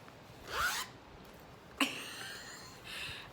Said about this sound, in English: I used the zipper for the first time.